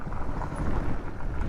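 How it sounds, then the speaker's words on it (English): Strong wind buffets a rider on a 2022 GPX Moto FSE450R dirt motorcycle, a loud, constant low roar of gusting air battering the microphone throughout, with no voices. "It's windy out today."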